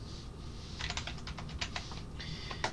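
A command typed on a computer keyboard: a quick run of close, light key clicks over a low background hum, with no voice.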